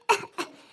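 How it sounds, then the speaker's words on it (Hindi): A woman, playing a sick mother-in-law in a family comedy scene, gives two short close coughs about a third of a second apart, the first stronger, then a quiet tail. "बहुत खांसी आवत है दुल्हन"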